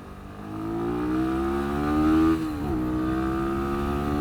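A Sinnis SM-R 125cc supermoto engine held at full throttle, droning steadily and loudly as it climbs slowly in pitch, then dips briefly at a gear change before pulling on again.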